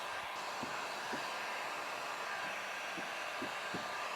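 A heat gun blows a steady, fairly quiet airy whoosh while a vinyl hood stamp is heated around its edges on a 2016-plus Toyota Tacoma hood, with faint soft taps underneath.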